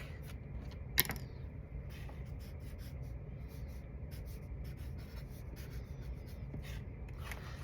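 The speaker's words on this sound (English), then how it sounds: "Now I'm going to write my name right here on my cupcake." A pen writes a name on a paper cupcake cutout, giving a soft continuous scratching under quiet room noise, with one sharp tap near the start.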